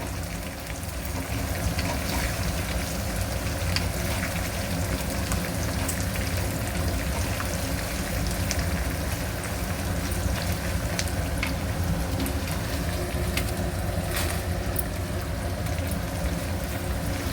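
Crushed garlic and dried red chillies frying in oil for mango pulihora, a steady, dense, close crackle and sizzle that runs without a break.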